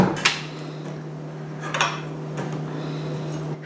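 A utensil mixes flour and baking powder in a bowl for brownie-style muffin batter, giving a few sharp, close clinks against the bowl spread over a few seconds in a quiet room.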